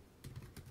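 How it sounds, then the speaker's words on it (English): Fingers type on a computer keyboard in a short, quiet burst of a few soft clicks over low background noise, with no one speaking. "I'm not good at typing and talking at the same time."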